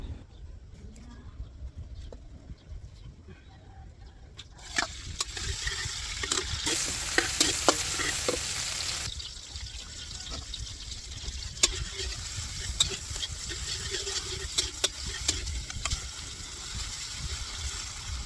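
Freshly harvested organic vegetables fry in a pan, giving a steady crackling sizzle that swells partway through, with scraping stirs and light clacks of a utensil close by.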